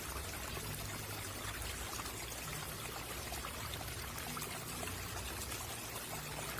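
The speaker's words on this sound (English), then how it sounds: "we're running the water to support with the first phase of healing these implants" Water runs in a steady, even stream, a soft continuous pouring trickle at moderate distance with no voices.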